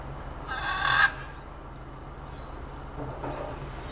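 Harsh squawking calls of wild parrots in Addo, Eastern Cape, a loud burst followed by a series of fainter chattering calls, outdoors with low background rumble.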